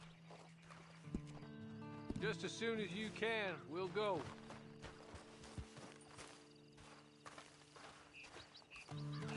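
Horse hooves clip-clop in a video game while the horse whinnies loudly in the middle, all beneath a man's speech and a steady background hum.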